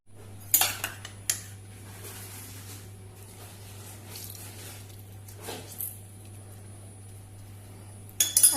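Marinated boneless chicken is mixed with rice flour and squeezed lemon in a bowl, giving a few sharp clinks of a utensil against the dish and soft squishing, separated by quiet stretches over a low steady hum.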